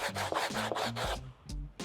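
Rhythmic back-and-forth rasping strokes of a 3D-printed sanding block on wood, close and steady, about six passes.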